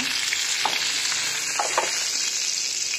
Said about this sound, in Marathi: आता हे तव्यावर भाजी फोडणी देणार आहे